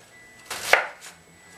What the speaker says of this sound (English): So take all of this onion and chop to medium fine